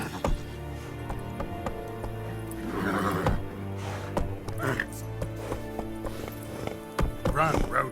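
Roach's hooves clip-clop in a steady rhythmic gallop in The Witcher 3, with a voice talking over the riding and a music bed underneath.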